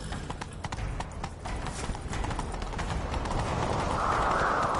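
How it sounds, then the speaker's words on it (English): A horse gallops in the video game The Witcher 3, giving a quick, steady clip-clop of hooves at close range under faint voices, while a rising rush of noise builds toward the end. "Grab a horse, we'll chase him down."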